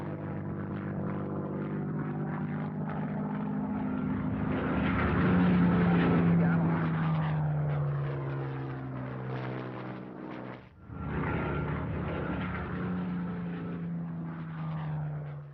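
A Hawker Hurricane WWII fighter's propeller engine drones steadily for about fifteen seconds, its pitch sliding slowly downward with a brief dip near the end.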